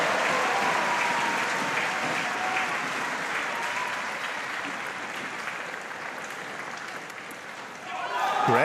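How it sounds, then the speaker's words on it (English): A crowd gives rapturous applause at a wheelchair doubles para table tennis match. The clapping is dense and sustained throughout, dipping slightly midway and then swelling again near the end. "Great start by the two French players. Rapturous applause."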